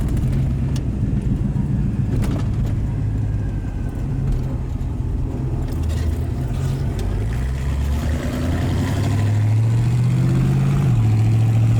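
A 1952 Chevrolet Bel Air engine drones steadily as the car drives, its pitch climbing and then dropping at a gear shift near the end, loud and close without talk.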